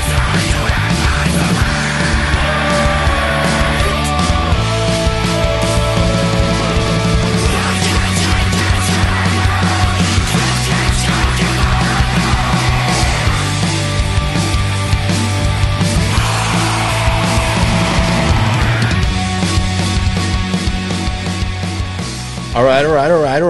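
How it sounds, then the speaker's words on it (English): A pop punk song plays loud and continuous, driving guitars and drums under sung vocals that turn to screaming, with a voice talking briefly over it. "It sounds like pop punk. And then it starts screaming."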